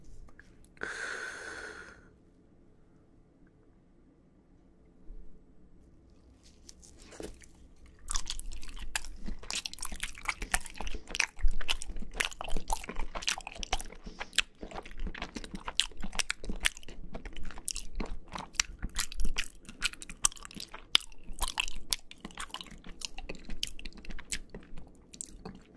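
Someone bites and chews a firm, bouncy, crumbly green grape jelly snack up close, after a brief opening noise; steady crunching and squelching run through the rest, loud and intimate, with soft breathing between bites.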